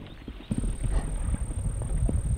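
Wild mustang stallions fighting near Phoenix, Arizona: hooves thud and scuffle at a distance amid wind-like noise, with faint whinnying mixed in among the trampling.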